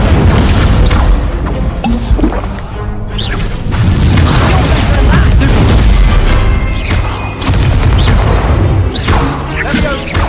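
Incendio fire spells cast repeatedly in Hogwarts Legacy: loud, dense bursts of whooshing flame and booming impacts crash one after another with almost no pause.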